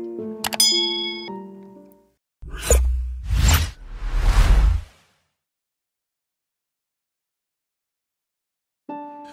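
A bright bell ding rings out, followed by three quick whooshing swishes, then silence and another short chime at the end.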